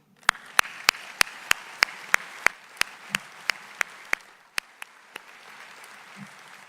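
Applause at a county government address, heard as slow, evenly spaced sharp claps that stand out clearly and thin out toward the end.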